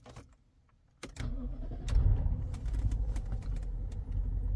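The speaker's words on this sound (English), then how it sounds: "what I'm going to do is start the car." A BMW car engine cranks and fires after a quiet moment, settling into a steady low idle with a few clicks from inside the cabin.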